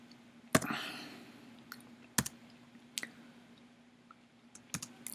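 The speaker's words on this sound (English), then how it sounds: "typing in this" Sparse keyboard clicks while typing in a code editor, a few sharp isolated taps spaced over several seconds against a steady low electrical hum and background hiss.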